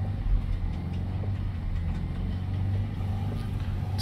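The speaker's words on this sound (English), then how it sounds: "what I'm doing is I'm just accelerating it up and down" A Land Rover 2.0 petrol hybrid engine with a restricted particulate filter runs steadily and close by, with only mild rises in revs as it is blipped up and down.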